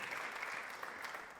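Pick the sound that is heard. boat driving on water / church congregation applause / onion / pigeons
church congregation applause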